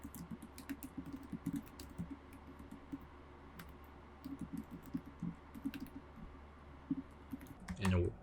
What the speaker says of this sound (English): So why don't I type in